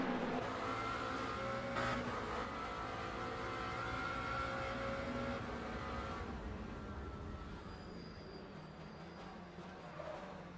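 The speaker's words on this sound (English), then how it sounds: "You see our car just bouncing all over the bumps." Race car in Le Mans Ultimate, a sim racing game, bouncing over track bumps: a steady loud engine drone with rattling, uneven judder continuing throughout, easing slightly toward the end.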